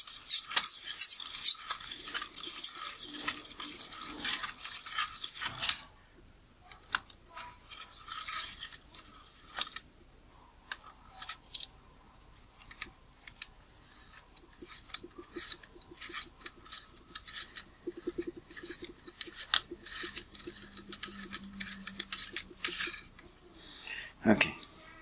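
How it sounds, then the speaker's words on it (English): Parts of an Apo-Nikkor 610mm lens are unscrewed during servicing, giving close, small metallic scrapes, rasps and creaks in short bursts, with quieter stretches between them. "this is a bit annoying because there is so much unscrewing to do"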